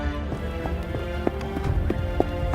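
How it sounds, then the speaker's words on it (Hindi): Horse hooves clop and patter rapidly as two soldiers arrive on horseback, a busy, close rhythm of hoof strikes over a dense background rumble. "तभी वहाँ पर 2 सैनिक आ गए। एक सैनिक घोड़े से उतरकर अभिमन्यु की ओर देखकर क्रोधित होकर बोला"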